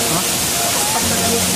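Mainit Falls in Brooke's Point, Palawan, roars with a loud, steady broadband rush of falling water that fills the whole stretch without a break, with faint voices mixed in.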